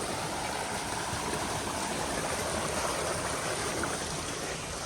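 Steady rushing flow of irrigation water running into a farm field, a continuous broadband wash heard close and even throughout with no talk.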